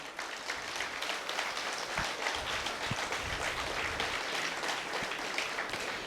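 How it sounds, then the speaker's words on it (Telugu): Big applause at a Pyramid meditation celebration in Kothapet as guests are welcomed onto the stage, a dense, sustained round of clapping from a large crowd with no talk over it. "big claps"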